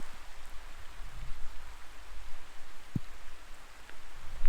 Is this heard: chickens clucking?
no